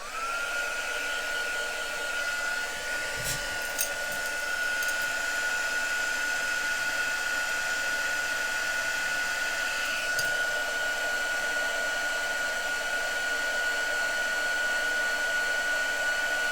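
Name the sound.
heat tool blowing hot air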